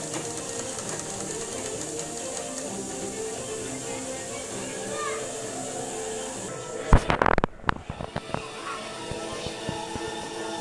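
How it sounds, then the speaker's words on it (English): Sewing machine stitching the lining piece of a sleeve, with a busy mechanical whir that runs steadily and then breaks into a short burst of louder clattering stitches near the middle. "turn the lining piece and stitching the top side."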